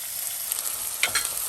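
Onion frying in hot oil with mustard seeds, cumin and asafoetida for a cabbage dish, a faint, steady sizzle with a couple of soft stirring scrapes near the end.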